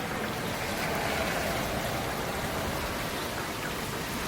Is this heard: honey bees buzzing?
no